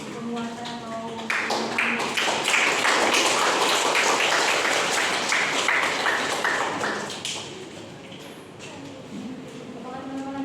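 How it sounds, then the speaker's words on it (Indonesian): A class of students in a primary-school social studies presentation breaks into a burst of rapid, fairly loud clapping lasting several seconds, with a voice speaking before and after. "Kita beri tepuk tangan untuk penguatan"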